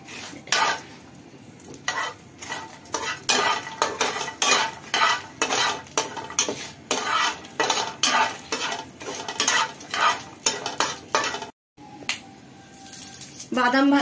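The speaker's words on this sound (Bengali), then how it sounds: "এবার একটু ফ্রাই করে নেব 2-3 মিনিট।" Peanuts and cumin frying in a pan while a utensil stirs them, giving a steady run of close, rhythmic scraping clatters over a soft sizzle, with a brief pause near the end.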